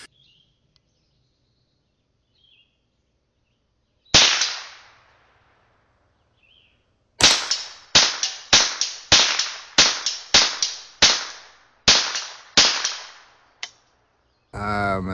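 A .22 LR rifle fired outdoors: one sharp crack, then a rapid string of about ten close, loud shots at a steady pace, each with a short decaying tail, and a final louder burst at the end.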